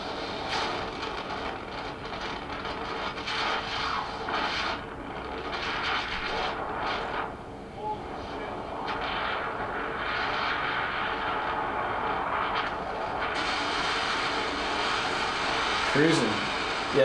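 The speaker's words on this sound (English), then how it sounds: "that's just the wind spinning your engine" An airplane engine windmills in the airflow during flight, a steady, broad drone of wind and engine noise filling the whole stretch, with brief shifts in tone.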